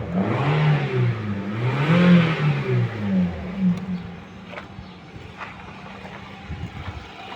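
Toyota Vios engine running again after sitting unused for a year, with repeated revs rising and falling close by, then settling to a quieter idle with a few clicks and knocks.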